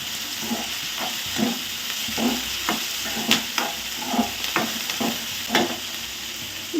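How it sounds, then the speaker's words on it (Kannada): Tomatoes and onions frying in oil with curry leaves, stirred in a pan. A constant close sizzle runs under regular scraping strokes of a spatula, roughly one or two per second, with no voices. "ಈ ಟೊಮ್ಯಾಟೊ ಈರುಳ್ಳಿ ಎಲ್ಲ ಎಣ್ಣೆಲೆ ಫುಲ್ ಮೆತ್ತಗಾಗಿ ಫ್ರೈ ಆಗಬೇಕು"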